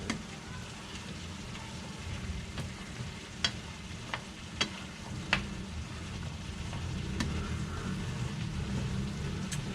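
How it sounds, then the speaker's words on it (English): Food sizzling in a skillet with occasional scraping and clinking as it is stirred, a steady low crackle throughout, moderately close. "Okay, now I'm I'm just going to stir it in."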